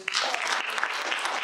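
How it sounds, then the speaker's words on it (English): Audience at a theatre club cabaret clapping in a practice round of applause, a dense burst of many hands close by, steady for the whole moment. "You can give some applause. Let's practice that again."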